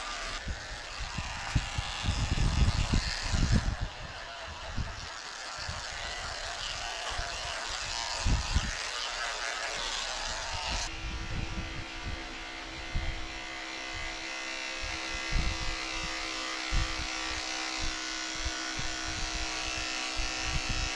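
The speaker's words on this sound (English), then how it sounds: "She is getting a number 7 blade all over." Electric clippers fitted with a number 7 blade shave a senior Lhasa Apso, a steady close buzz that runs throughout and shifts pitch partway as the blade moves over the coat.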